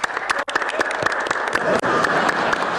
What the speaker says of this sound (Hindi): बच्चों तालियां बजाओ।